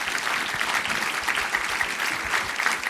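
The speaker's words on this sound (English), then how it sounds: "good round of applause to our investors" A conference audience at a startup event gives a round of applause, a dense, even clatter of many hands clapping continuously for a few seconds.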